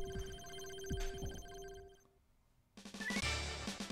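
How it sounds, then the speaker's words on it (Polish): A stream follow-notification ping rings out over Castlevania: Dracula X game audio, a steady bell-like tone lasting about two seconds, then a short gap before brighter game sounds resume; no one speaks. "ten ping związany z powiadomieniem"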